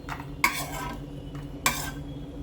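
Coconut pieces and tindora being stir-fried in a pan for a masala curry, with two sharp utensil scrapes and clinks against the pan standing out over a low background hiss, no talking.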